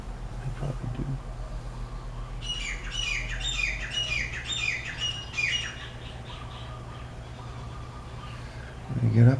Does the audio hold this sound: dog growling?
no